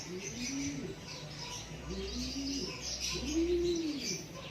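A wounded bird just caught by a falcon gives low, rising-and-falling cooing calls, three drawn-out notes spaced apart, close by over a soft background hiss.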